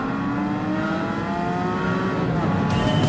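A Porsche Cayman races in Gran Turismo 7, its engine a loud, close, steady drone that holds an even pitch throughout with no voices over it.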